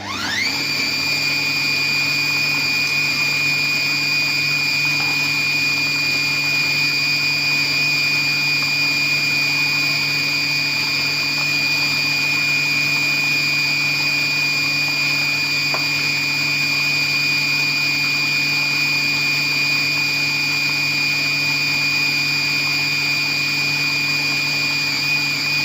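A Compact Cook Pro multicooker runs program 25 to mix crêpe batter, a loud steady motor whir with sustained tonal hum that holds unchanged for the whole stretch, with no talking.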